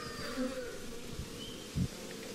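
Honeybees from a newly installed package hive give off a steady, low buzzing drone with a few louder passes as bees fly close by outdoors.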